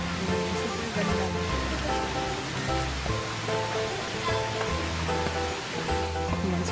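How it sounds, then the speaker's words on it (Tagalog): Hinulugang Taktak waterfall in Antipolo pours in a steady, dense roar of falling water, loud and continuous throughout with no voices over it. "Pakita ko sa inyo yung falls malapitan."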